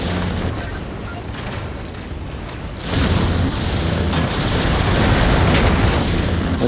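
Weapon fire and explosions in the mech combat game Vox Machinae, a steady rumbling barrage of booms that grows louder and denser partway through, continuous and close with no pauses.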